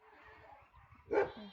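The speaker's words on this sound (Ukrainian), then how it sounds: "Тут до сусідів прийшов, собаки гавкають" Dogs bark once, faint and somewhat distant, at neighbours' place after a stretch of quiet outdoor background noise on a sunny day.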